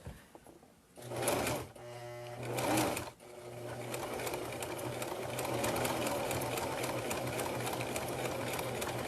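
A sewing machine stitches a reusable coffee sleeve, two short loud bursts followed by a long steady run of rapid, close mechanical whirring.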